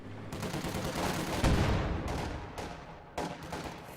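Small-arms gunfire from partisans in a strategy war game, a dense crackle of rapid shots and bursts running throughout with sharper reports standing out near the middle and toward the end.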